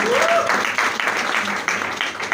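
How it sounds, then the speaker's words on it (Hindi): An audience claps after a motivational leadership speech, a dense, steady burst of applause throughout, close and loud, with a brief voice or whistle-like tone near the start. "तालियां।"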